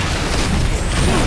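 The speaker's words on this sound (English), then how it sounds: "Shotgun." A shotgun blast in the Halo Reach game, a single loud, dense boom that fills the short moment with broadband noise.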